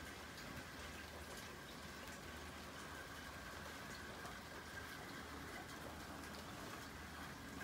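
Rain falls at night as light rain turning into a downpour, a dense, even hiss of drops on surfaces that holds steady and fairly close.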